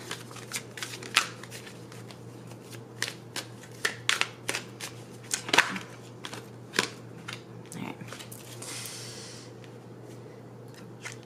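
Oracle cards shuffled and drawn during a tarot reading, giving repeated crisp riffling flicks and slaps up close over a low steady hum, with no talking.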